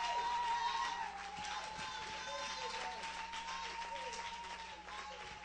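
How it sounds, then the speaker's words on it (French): Church congregation applauding and cheering at a service, a broad steady wash of clapping with crowd voices mixed in, loudest at the start and holding fairly even, with a faint sustained tone running underneath. "Give him applauses."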